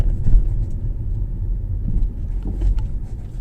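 Car being driven, heard from inside the cabin: a steady low engine and road rumble with muffled bumps, close and even, with no talking.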